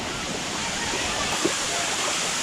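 A strong waterfall at a water park roars in a dense, steady wash of falling water, loud and continuous throughout.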